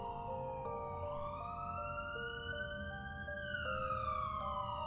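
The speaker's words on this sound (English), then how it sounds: "Outside, a police siren goes by" A wailing police siren sweeps up and down steadily, heard from outside at moderate distance, with a second siren tone layered over it.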